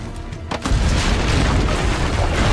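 Cannon fire from ramparts in a battle scene of the video game Assassin's Creed Brotherhood: a deep heavy boom erupts after a brief quieter lead-in, followed by a sustained loud rumbling roar.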